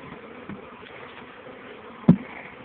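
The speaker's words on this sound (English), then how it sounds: "That's a whole pile of bees." A wild bee swarm in Mamou, Louisiana, makes a faint, continuous low buzzing hum, broken once near the end by a single short knock.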